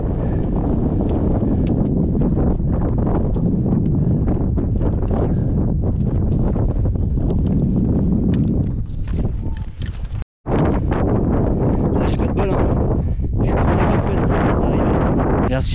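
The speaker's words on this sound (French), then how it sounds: "Il y a pas mal de vent aussi." Strong wind buffets the microphone on a steep mountain climb toward Mont Buet, a loud continuous roar with gusty swells and a brief dropout partway through.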